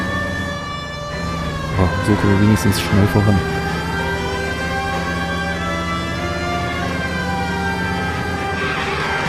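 A wailing police car siren from the L.A. Noire video game sweeps up and down continuously and loudly, with someone speaking over it for a couple of seconds near the start.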